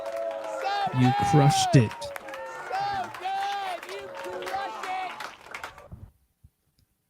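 Applause sound effect with crowd clapping and cheering plays for about six seconds, loud and dense at first then thinning, while a voice speaks over it before it cuts to silence.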